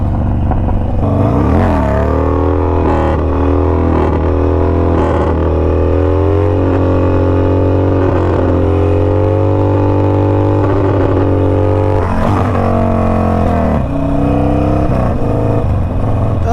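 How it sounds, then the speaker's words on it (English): A motorcycle engine runs loud and close through a wheelie, with a sustained roar, pitch swells and dips, and a sharp rev change near the end. "I'm doing a wheelie, I don't care."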